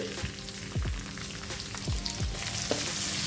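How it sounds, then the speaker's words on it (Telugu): Chopped onions, green chilies and curry leaves fry in hot oil with a steady, close sizzle, broken by several sweeping stirs of a spoon through the pan. "ఇప్పుడు వీటిని ఆయిల్లో బాగా ఫ్రై చేసుకోవాలి"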